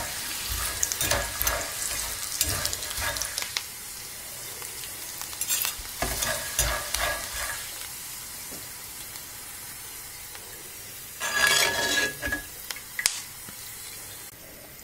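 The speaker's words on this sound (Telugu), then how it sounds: "ఇలా వేగిన వాటిని ఇప్పుడు బూందీలో వేసేసుకుందాం" Fried curry leaves and peanuts are stirred into crunchy kara boondi, giving dry rustling, scraping stirs in repeated bursts with faint sizzling and clinks in between, and no talking.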